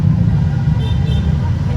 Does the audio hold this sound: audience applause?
no